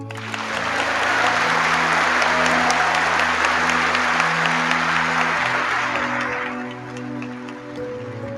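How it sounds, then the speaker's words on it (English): Audience applause for military representatives and Governor Bev Perdue at a political convention speech, a broad sustained wash of clapping from a large crowd that holds steady for several seconds, then thins and fades as a low tone hums beneath. "so give them a big round of applause"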